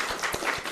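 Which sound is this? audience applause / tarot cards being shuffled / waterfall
audience applause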